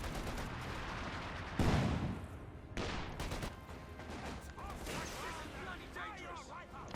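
Artillery shells and gunfire burst in a Company of Heroes 2 battle, with one loud impact followed by further blasts and rattling fire, all set against a continuous bed of game noise.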